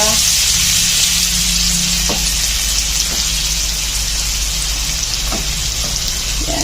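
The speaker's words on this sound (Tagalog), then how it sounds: "So, magisa-gisa na tayo, guys. Ayan, ito na yung unahin natin, bawang. Kunting brown lang yun siya." Garlic frying in pork fat for a pork kaldereta, a steady dense sizzle running throughout with a few soft clicks of a utensil against the pan.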